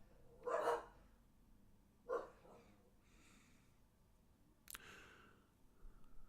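A dog barks a few times in the background, two soft, distant woofs a second and a half apart followed by quieter sounds, all faint.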